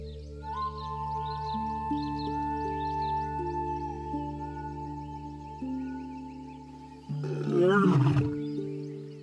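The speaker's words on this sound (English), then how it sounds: "The lion's roar ranks among the most imposing sounds in all of nature." A wild African lion gives one deep, rough roar near the end, loud and close, after a long stretch of sustained low droning tones.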